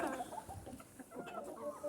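A white bantam hen gives a short run of close, soft clucks that last under two seconds.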